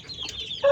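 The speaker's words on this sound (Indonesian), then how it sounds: "kita kedatangan burung kutilang" A newly bought sooty-headed bulbul (kutilang) being unboxed gives a brief, bright chirping call that ends in one louder, clear note.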